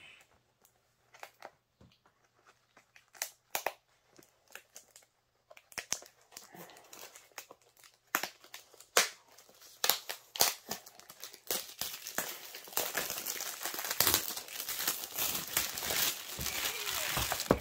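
Plastic packaging of a cross-stitch kit crinkles and crackles as it is pulled open, with sparse rustles at first growing into dense, continuous close-up crinkling and tearing.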